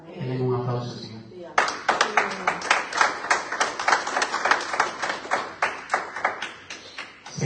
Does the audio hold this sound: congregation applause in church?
yes